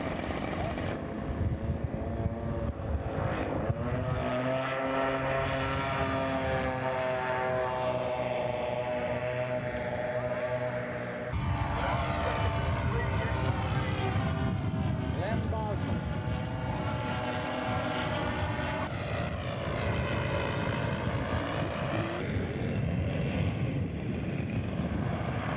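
A small propeller engine drones steadily as a scale model Aeronca airplane flies at an aircraft show, its pitch rising and falling as it passes, with voices talking underneath.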